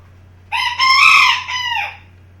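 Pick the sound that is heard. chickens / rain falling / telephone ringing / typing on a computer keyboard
chickens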